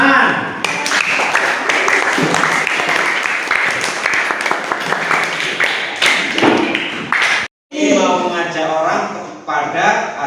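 A classroom of students claps hands together during a teaching practice lesson, loud, rapid and continuous for about seven seconds before stopping abruptly; a voice then speaks over the room.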